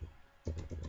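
Keystrokes on a computer keyboard while text for a stamp design is entered in CorelDRAW, a quick run of close, soft clicks starting halfway through after a near-silent start.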